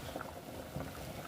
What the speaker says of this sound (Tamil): தேங்காய் பேஸ்ட்டு ஊற்றுனதுக்கப்புறம் ஒரு 5 நிமிஷம் கொதிக்க விடுங்க.